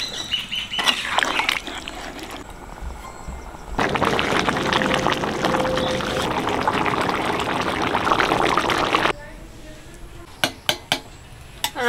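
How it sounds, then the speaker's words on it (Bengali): Water is poured into a pot of curry with shapla and prawns, a loud splashing gush lasting several seconds between softer clinks of a pot and utensils. "জল দিয়ে দিচ্ছি।"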